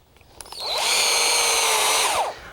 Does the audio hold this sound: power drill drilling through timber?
yes